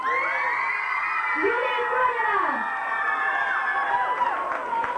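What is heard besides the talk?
audience applause and cheering for a pageant contestant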